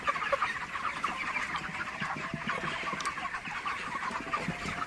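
A flock of chickens and a rooster feeding after grain is scattered cluck continuously in a dense, steady chorus at moderate distance, with no talk.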